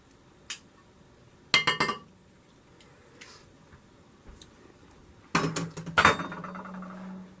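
A knife is handled among dishes and cutlery in a home kitchen, making quiet scattered clinks and taps that come in two short clusters with stillness between.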